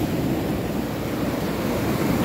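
Surf rolls steadily onto a white sand beach at Pagudpud, a continuous broad wash of breaking waves with wind rumble, close and moderately loud, no voices.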